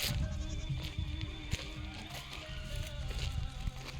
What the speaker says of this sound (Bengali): এই যে জঙ্গলে ছাগল চড়াচ্ছে